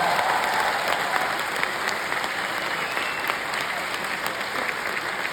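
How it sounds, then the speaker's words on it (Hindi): A large audience at a kavi sammelan poetry event at IIT Ropar claps loudly for a poet, a continuous, even roar of applause filling the whole stretch. "मैं चाहता हूं एक बड़े शायर के लिए कितनी बड़ी तालियां बजनी चाहिए, जोरदार तालियां बजाकर।"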